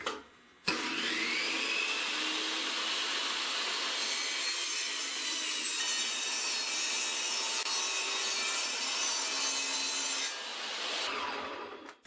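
A table saw rips through a 3/4 inch plywood panel in one long, loud, continuous cut, its harsh whine starting abruptly, holding steady for about ten seconds, then spinning down.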